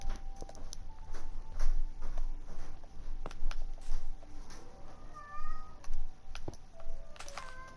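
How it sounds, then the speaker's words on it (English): A pet cat meows several times close by, its cries rising and falling, over light background clatter and soft tapping. "My cat's meowing."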